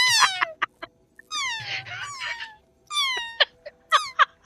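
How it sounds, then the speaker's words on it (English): A cat meows repeatedly close to a streamer's microphone, a run of short, high, bending cries with brief pauses between them, loud and clear with no talk. "that actually sounds like a cat"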